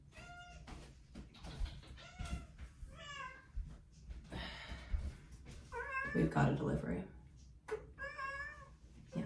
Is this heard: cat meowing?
yes